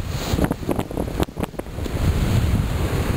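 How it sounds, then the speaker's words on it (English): Steady, loud wind noise buffets the microphone throughout while paragliding from Nice toward Geneva, with a rushing roar that briefly dips near the middle before surging back. "the wind is coming from behind me and slightly to the"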